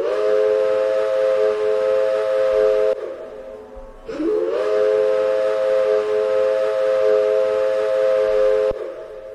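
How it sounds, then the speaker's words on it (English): A Gresley A3 steam locomotive's multi-note American chime whistle in a train simulator game sounds loud and steady for about three seconds, breaks briefly, then blows again in a long sustained blast. "And then the chime whistle,"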